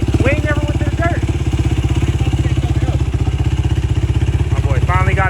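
A Honda XR50 dirt bike engine runs loud and close with a steady rapid pulsing idle-to-rev rhythm throughout, while voices talk over it.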